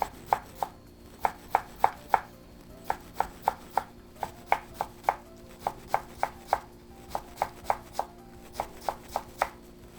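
A knife minces sliced carrots on a cutting board for Italian soffritto, sharp regular taps in quick bursts with brief pauses, close and clear with no talking.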